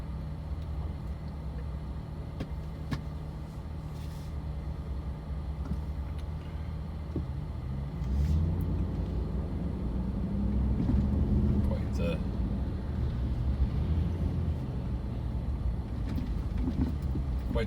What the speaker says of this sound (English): Quite the traffic here in town today.